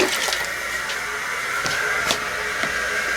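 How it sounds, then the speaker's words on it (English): A toilet flushing: a steady rush of water runs for about three seconds on its own with no voices, louder at the start and fading slightly. "Flushing down the toilet."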